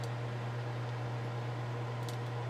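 Steady low electrical hum of a microwave oven running with a faint airy whir, no voices, continuous and even throughout.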